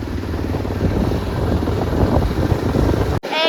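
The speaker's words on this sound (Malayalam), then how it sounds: "ബീച്ചിലൂടെ സഞ്ചരിക്കുകയാണ് ആദിയുടെ ബൈക്ക്." A motorbike rides along a beach with a steady, loud engine drone and wind rush that continue unbroken, then cut off abruptly near the end.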